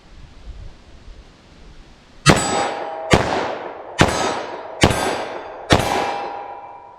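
Five loud .357 Magnum revolver shots strike a steel target at 14 yards, each a sharp ringing clang that decays slowly, spaced under a second apart after a quiet start.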